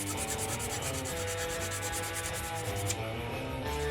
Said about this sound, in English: Just sanding this